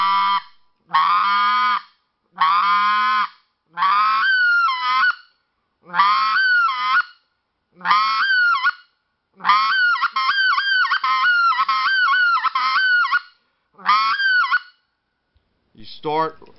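A goose call blown at the low end of its range gives a series of short honking notes in bursts, then a rapid run of clucks near the end, close and loud without talk.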